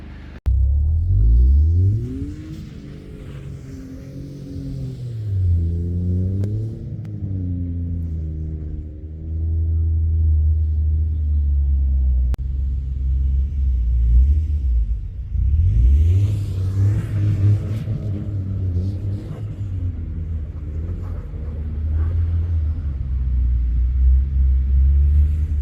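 Toyota GR Corolla engine revving while driving through snow, a loud, continuous low rumble with rising and falling pitch as the car accelerates and eases off, with no talk.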